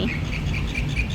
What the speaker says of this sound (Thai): เสียงนกร้องเสียงนกเอี้ยง